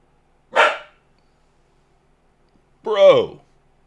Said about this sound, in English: what are we barking at?